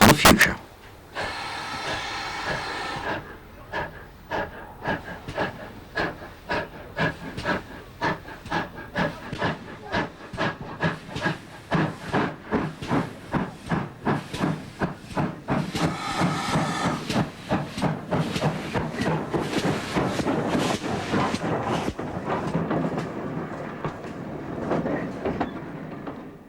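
A steam train on the South Devon Railway chuffs steadily with rhythmic hissing bursts that quicken, opening with a sharp hiss of released steam and a later loud hissing spell.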